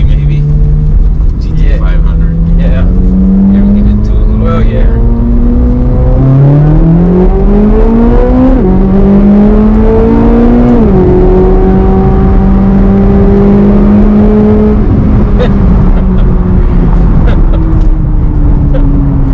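A 2024 Corvette Z06 accelerating on a public street, heard from inside the car as a loud engine note rising through several gear pulls, each climb followed by a shift, with people talking over it.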